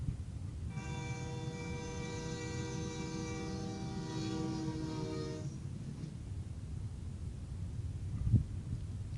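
Distant rumble of a train, then a steady multi-tone whistle blares for about five seconds and cuts off, followed by continued low rolling rumble and a brief thump near the end.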